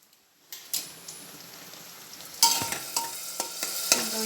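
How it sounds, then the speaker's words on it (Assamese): Yogurt is stirred into a frying pan as the heat comes on, starting nearly silent, then scraping clinks and a growing sizzle with rain-like crackling. "দৈখিনি মিক্স কৰি আছোঁ"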